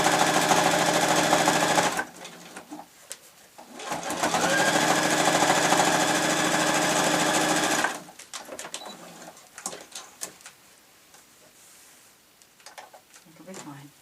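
A sewing machine stitching fabric runs in two sustained close bursts of steady whirring, pausing between them, followed by quieter handling noises and someone talking near the end.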